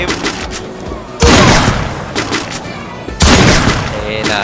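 Sniper rifle gunfire in a deathmatch first-person shooter game, with two loud, sharp shots about two seconds apart, each followed by a ringing decay, over continuous game background noise.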